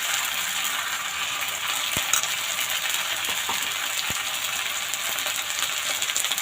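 Ginger, garlic and green chili paste fries in a pan for a small-potato aloor dom, giving a steady, even sizzle with a couple of sharp utensil clicks against the pan.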